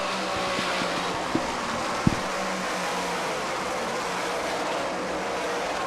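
Modified race cars at Autodrome Granby in a finale, a steady dense engine roar from the pack, with a couple of brief knocks.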